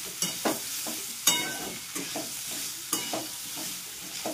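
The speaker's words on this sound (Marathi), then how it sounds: "व्यवस्थित मिक्स करणार।" Spoon stirring cauliflower curry in a pan, a series of soft scraping strokes over a gentle sizzle, close and fairly quiet with no talking.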